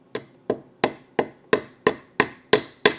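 A bushing is tapped further onto the shaft of a 1964 Triumph TR4 engine, nine sharp, evenly spaced hammer blows about a third of a second apart, close and clear, with no voices.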